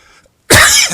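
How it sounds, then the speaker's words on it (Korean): A single sharp cough from a man with a sore throat and a slight cold, loud and close after a moment of near silence. "목이 조금 안 좋아가지고 기침이 자꾸 나오는데"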